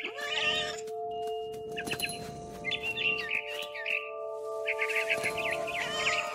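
A cat in the video game What Remains of Edith Finch meows and caterwauls in several drawn-out cries over a sustained tonal game background, with faint bird chirps mixed in.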